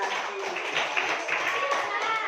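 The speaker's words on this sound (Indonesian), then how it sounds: "Tepuk tangan untuk kelompok 1" A classroom of students claps for a presenting group, a soft, fairly steady patter of hands that fills the short moment without a break.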